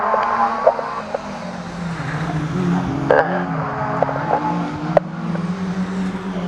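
Stock rod race cars lap a short oval at Grimley, their engines droning and rising and falling as they pass at mid distance, with occasional sharp knocks over a steady roar.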